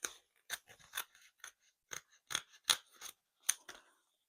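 Scissors snip around an owl pattern cut from craft material, a string of crisp, close, quiet cuts in an irregular rhythm with brief pauses between them, no talk.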